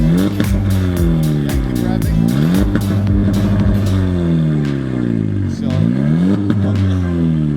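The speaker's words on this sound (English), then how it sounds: "Muffler delete plus catless downpipe equals way too loud." A car with a muffler delete and catless downpipe revs loud and near, its exhaust rising and falling in repeated sweeping climbs and drops, raspy and droning throughout.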